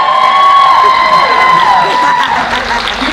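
A loud audience at a Knott's Scary Farm panel during Midsummer Scream cheers and whoops continuously, with a bright whistle-like tone sliding through the crowd noise.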